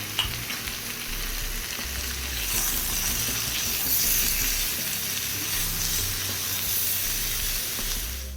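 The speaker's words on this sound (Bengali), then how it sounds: "লবণ হলুদ দেওয়ার পর সুন্দর করে নাড়াচাড়া করে একটু কষিয়ে নিচ্ছি" Potatoes and broad beans with salt and turmeric are stirred and sautéed in a pan, giving a continuous loud sizzle with a swelling hiss and soft scraping of the spoon, close by with no speech.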